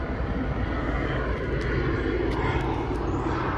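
Steady, broad engine roar of a helicopter circling overhead, a continuous rumbling drone that holds level throughout with no voices.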